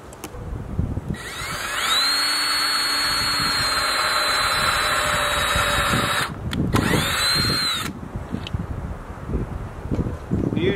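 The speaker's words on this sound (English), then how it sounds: "I'm gonna use the bit to countersink, and then I'll screw in through the back." A power drill whines steadily as it countersinks and drives screws into wood from a piano being turned into a bench, two sustained runs separated by a brief pause, loud and close.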